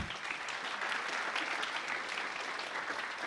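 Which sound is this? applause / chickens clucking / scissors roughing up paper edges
applause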